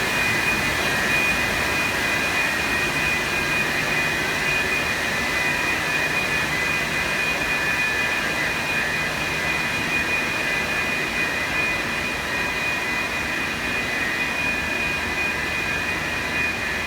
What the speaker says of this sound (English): it gets kind of noisy with the pumps going